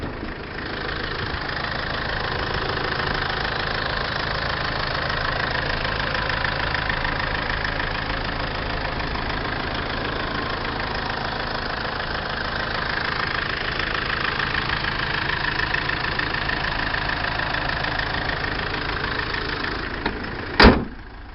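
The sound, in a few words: 4x4 car engine idling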